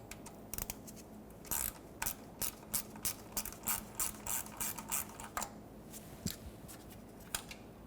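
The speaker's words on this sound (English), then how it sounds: "Now, let's take off this little one, which is going to be an 8mm mounting nut for the signal wire." An 8mm mounting nut for the signal wire on the starter of a 2000–2005 Ford Excursion being backed off with a ratchet, producing a close, rapid series of sharp clicks in quick bursts, then a pause and a few final clicks, without talking.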